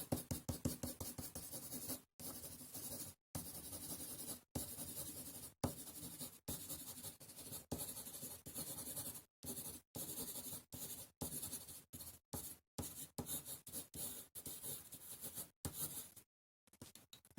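Soft graphite pencil scratches across paper in steady repeated strokes, close and quiet, with brief pauses between bursts of shading.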